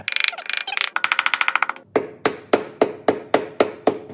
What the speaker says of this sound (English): So I've got a rubber mallet. Hopefully I can just bump this free.